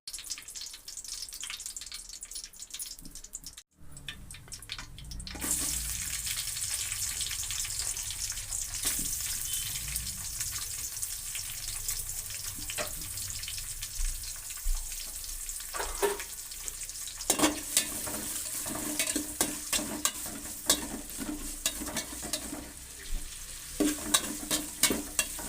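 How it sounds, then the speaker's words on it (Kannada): Onions and curry leaves fry in hot oil in a pan while being stirred, for a bitter gourd gojju; after a quiet opening few seconds, a loud, steady sizzle runs throughout with scraping stirs and no talking. "ಈರುಳ್ಳಿ ಕೆಂಪು ಹುರಿಬೇಕು."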